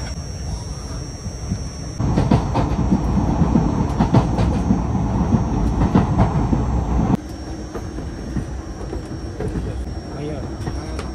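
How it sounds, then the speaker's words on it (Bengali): The 12311 Netaji Express running on rails, a loud close rumble with rhythmic clickety-clack that swells into a heavier roar midway, then eases back to a steadier hum. "চলো, ট্রেন আমাদের ছেড়ে দিয়েছে।"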